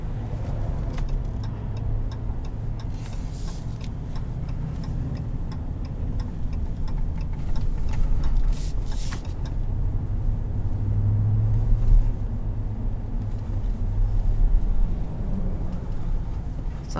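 A 2020 Ram 1500 Rebel pickup truck accelerating while merging onto a highway, a steady low engine and road drone heard from inside the cab that swells gradually, with faint ticking and no talking.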